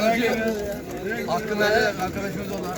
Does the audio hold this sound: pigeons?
yes